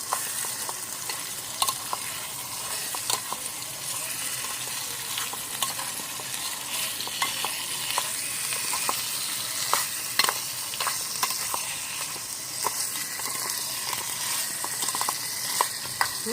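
Frog meat fries with spices in a pan, a steady close sizzle broken by frequent scraping stir strokes that clink and rasp at irregular intervals.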